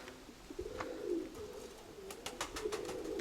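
Pigeons give soft, low cooing calls that repeat in a steady rolling pattern nearby, with a few faint clicks and rustles around them.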